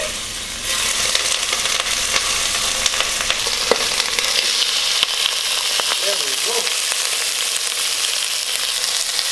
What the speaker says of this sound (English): Hopefully we hear the sizzle sizzle when we hit it in the pan.